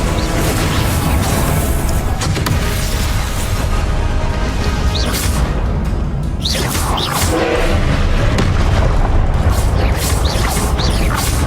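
Fire spells and explosive blasts in the Hogwarts Legacy video game, a dense, loud barrage of booms, crashes and whooshing impacts layered over continuous game sound with no pauses.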